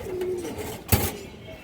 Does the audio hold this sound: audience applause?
no